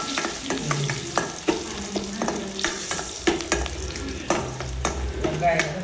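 Green chillies and cumin seeds frying in hot oil in a home kitchen, steady crackling sizzle with repeated sharp scrapes and clinks of a stirring spoon against the pan.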